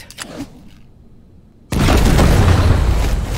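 A grenade explodes in the video game Wasteland 3: after a quiet stretch of faint background sound, a sudden loud booming blast hits and rolls on as a sustained roar to the end.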